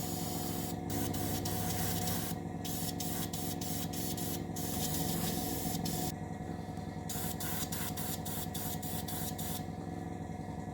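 An airbrush sprays a light dust coat of paint onto a submarine model, a close continuous hiss that cuts in and out in short bursts as the trigger is worked.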